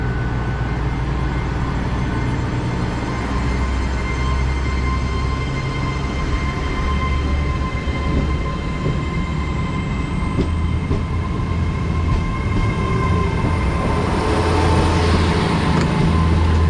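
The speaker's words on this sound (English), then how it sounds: "when the train leaves" Train pulling out of a station in Devon, a loud continuous rumble heard close by, with low engine throbbing that rises and falls and a thin whine building toward the end.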